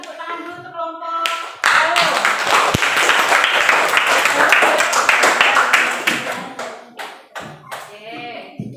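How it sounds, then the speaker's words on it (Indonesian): A class claps for a student group, a dense burst of hand clapping that swells, holds steady, then thins out into scattered claps, with a teacher's voice heard before and after. "kita beri tepuk tangan dulu untuk kelompok"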